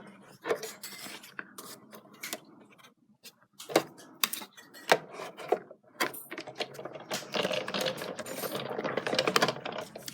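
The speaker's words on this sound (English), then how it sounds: "So I need to die cut 3 of these circles out of acetate." A die cutting machine cuts circles from acetate and cardstock, giving a string of sharp clicks, rasps and handling knocks that build into a denser, louder rolling grind near the end, close and with no talk.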